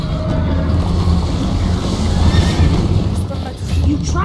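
A horse neighs amid a dense wash of chase action in the Minecraft Story Mode video game, with steady loud background noise and galloping throughout.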